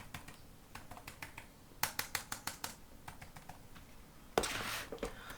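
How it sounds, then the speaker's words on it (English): Fingers tap on a membrane keyboard, making soft, close clicks in irregular bursts and short runs with brief pauses between them, ending in a slightly denser flurry of keystrokes. "So membrane keyboards, first of all, they sound like this."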